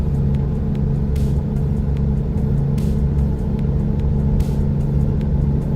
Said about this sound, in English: I'm driving a diesel truck